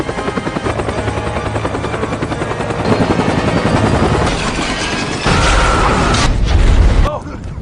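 A helicopter in a film action scene whirs with continuous rotor chop, and booms and gunfire swell in the second half, under a narrator's voice.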